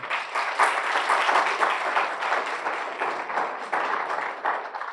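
Sustained audience applause at a university scholarship presentation ceremony, a dense steady wash of many hands clapping for the full five seconds, fairly loud and without talk over it.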